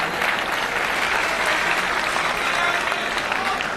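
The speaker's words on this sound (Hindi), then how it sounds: "एक बार जोरदार तालियों से आप उनका स्वागत कर दीजिएगा।" A crowd at a mushaira greets a poet from across the border with loud, dense applause, sustained and even throughout, with a few voices faintly mixed in.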